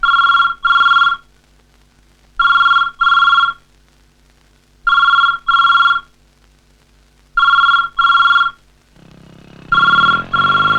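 A telephone rings in loud, close double bursts, four pairs evenly spaced with silence between, before a louder, busier stretch of noise takes over at the end.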